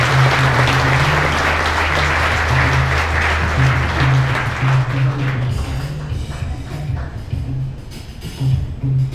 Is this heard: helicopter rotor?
no